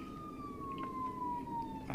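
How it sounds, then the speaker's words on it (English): An emergency vehicle siren wails from behind a group of cyclists during a road race, a single long descending tone, fairly clear over the road and wind noise. "here, a siren screaming at the back of us"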